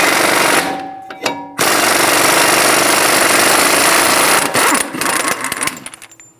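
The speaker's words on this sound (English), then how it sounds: "Using a 30mm axle nut socket, we're going to remove the axle nut." Loud bursts of a rattling impact wrench with a 30mm socket removing the front axle nut on a 2007-2011 Toyota Camry, hammering at close range, with brief pauses between runs and a final shorter burst.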